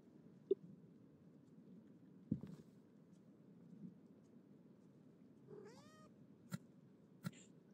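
A cat in the horror video game Demonologist lets out one faint, rising meow partway through, set against a low murmuring background with a few sharp isolated clicks and taps.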